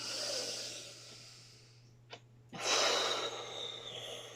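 Deep breathing during a mind-body exercise for a group of tweens: a long exhale, a quiet pause with a short sniff, then a strong, airy inhale that builds and holds.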